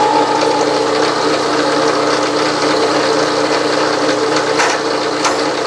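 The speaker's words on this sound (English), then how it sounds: "I got to run the machine in reverse, of course, to get the cutter to go forward when I'm in back gears" A milling machine running in reverse in back gears, its cutter turning steadily with a continuous dense mechanical whir and rattle, close and loud throughout.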